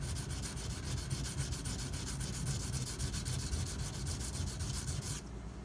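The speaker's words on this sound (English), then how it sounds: "I'm going to keep my angle elevated, put pressure directly on that chip, and just grind in that area." A Spyderco Dragonfly knife blade is ground on a sharpener to remove a chip, giving a loud, steady, close rasping scrape with rapid rhythmic strokes that stops abruptly near the end, with no talking.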